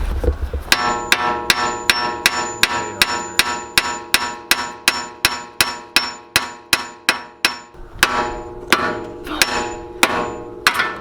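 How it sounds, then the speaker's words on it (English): Hard metallic hammer blows on a Honda Accord EX-R tie rod ring out in a fast, even series of about two dozen strikes, a brief pause, then more pounding, loud and close. "hold the hammer like this, and just fucking pound the thing."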